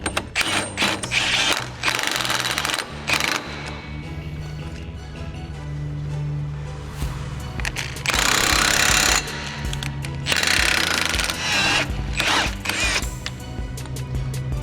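Repeated metal hammer blows strike a rusted nut during work on a 900HP Barra project car, loud and close, with bursts of hissing noise between the strikes.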